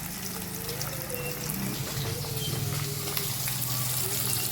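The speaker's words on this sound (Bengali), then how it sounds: "তারপর রান্নার জন্য আমরা ভেজে নিচ্ছি মাছ" Fish frying in a pan, a steady close sizzle and crackle of hot oil that runs continuously without pause.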